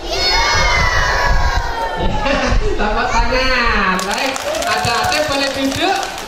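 A crowd of young children at a school event shouts and cheers excitedly, loud and close, with high overlapping voices rising and falling over the whole stretch.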